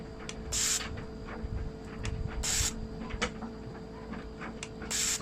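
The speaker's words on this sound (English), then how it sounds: "I'm going to show you what is the pattern of the spray of the injector once I operate the machine" A fuel injector from a 2000 Holden Astra, run on a cleaning machine, fires brake cleaner in short sharp hissing sprays that repeat every couple of seconds over a steady mechanical hum and faint ticking.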